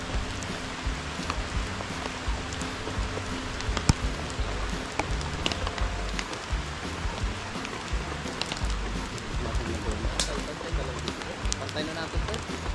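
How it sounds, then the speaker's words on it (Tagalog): Light rain falls outdoors over ground being levelled, a continuous soft patter of scattered drops with occasional sharper ticks, steady and close throughout. "Kaunti lang po ulan yan."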